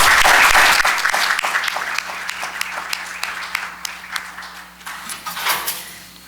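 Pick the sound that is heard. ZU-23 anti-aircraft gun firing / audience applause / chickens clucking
audience applause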